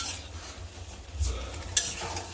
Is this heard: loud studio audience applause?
no